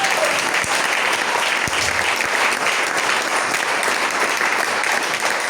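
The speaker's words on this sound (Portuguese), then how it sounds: "Aplauda o Senhor." Congregation applauding during a church service, a loud continuous wash of clapping from many hands that holds steady for several seconds with a few sharper claps standing out.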